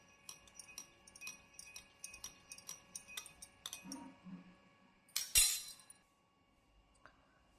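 A spoon stirs honey into cinnamon ginger tea in a glass, making a quick rhythmic run of light clinks, then one louder clattering knock before it goes quiet.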